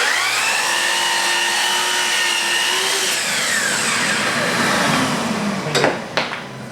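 Power saw running on a piece of crown molding with an outside corner cut, a steady whine that slides down in pitch, then a few sharp clacks and bumps near the end.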